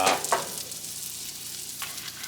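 Potatoes frying on a griddle in leftover bacon grease, giving a steady close sizzle with a few brief stirring scrapes near the start.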